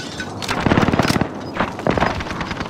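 Rapid bursts of automatic gunfire from Call of Duty: Modern Warfare, loud and close, with dense rattling volleys and a few shorter pauses between strings of shots.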